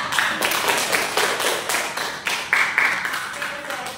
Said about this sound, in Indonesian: kita beri tepuk tangan untuk teman kita